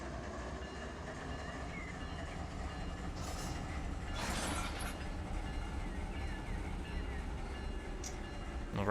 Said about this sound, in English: We'll go ahead and pull the locomotives forward.